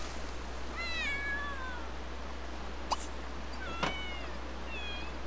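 A pet cat in the video game The Sims 3 gives two clear, drawn-out meows a couple of seconds apart, close and fairly quiet over a low steady hum, with a couple of brief clicks between.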